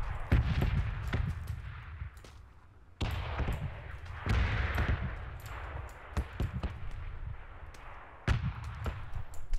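Gunfire in the video game PUBG: repeated sharp shots and bursts with short gaps between them, over dense battle noise. Some shots sound close and others distant.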